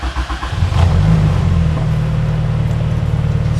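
A 1992 turbocharged Honda Civic EG hatchback fires up from a push-button start: a short cranking whir, then the engine catches with a quick rev and settles into a steady, close idle rumble.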